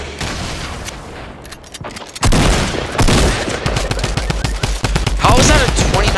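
SMG gunfire in Fortnite on Xbox: loud, rapid bursts of shots that pause briefly, then return in a denser, heavier barrage for the rest of the stretch.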